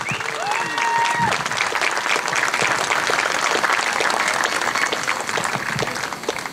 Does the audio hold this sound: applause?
yes